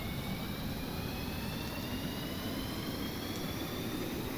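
A Messerschmitt ME-262 jet engine running in the Stormworks video game gives a steady, unbroken roar with a high whine layered on top. It is loud and constant throughout, with no talk over it.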